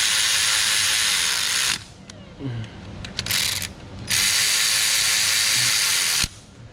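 Power ratchet driving bolts in during timing belt work on a 2014 VW Jetta 2.0L, two loud sustained mechanical buzzing runs separated by a quieter stretch of clicks and handling noises.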